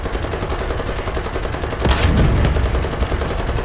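A single heavy tank cannon blast booms out in a tank video game, with American and British tanks, rising sharply over a constant rumbling engine drone and then trailing off.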